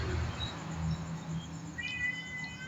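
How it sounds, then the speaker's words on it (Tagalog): A cat meows a few times over a steady background hum in a kitchen while chicken is prepared, fairly faint and somewhat distant, with no talking. "nagmiyaw na naman yung ating pusa"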